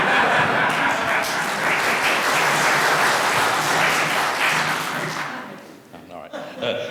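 A town hall meeting audience claps for the police chief, a full, loud burst of applause lasting several seconds before fading out, followed by brief sounds of a voice starting to speak.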